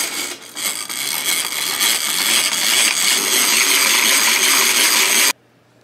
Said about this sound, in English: I'm going old school today, so I'm going to mix it by hand.